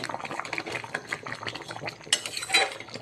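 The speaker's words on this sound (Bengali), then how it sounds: "প্রচুর ফুটছে।" Kadai paneer masala bubbling vigorously in a pan, with a soft irregular bubbling texture and a few sharp clinks of a utensil against the pan near the end, close up.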